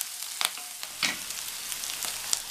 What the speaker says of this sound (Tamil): இந்த வெங்காயத்தை லைட்டாக வதக்கி விட்டுக்கணும்.